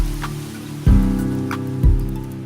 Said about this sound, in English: rain is incessant, defying us with its gray,